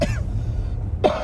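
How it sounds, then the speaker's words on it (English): Two short coughs, one at the start and another near the end, separated by a quiet stretch with low background hum. "I don't like how often I'm coughing on this video"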